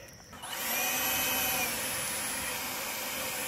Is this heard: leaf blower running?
yes